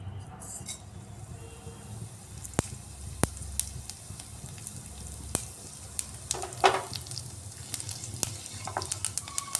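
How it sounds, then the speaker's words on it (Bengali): Cumin and fenugreek seeds sizzle in hot mustard oil, a steady close frying hiss broken by sharp metallic clinks and taps of a utensil against the pan. "তেলটা গরম হয়ে গেছে এবার আমি এর মধ্যে ফোড়নের জন্য দিচ্ছি সামান্য জিরা আর মেথি"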